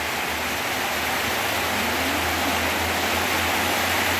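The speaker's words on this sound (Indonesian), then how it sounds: "Hujan ini payahnya kali." Heavy rain falls on a village in Asahan regency, a steady, dense hiss of downpour that stays even and unbroken throughout, with no voices.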